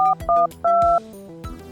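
Touch-tone phone dialing, a quick run of several short, loud beeping keypad tones in uneven rhythm, close and clear with no talk.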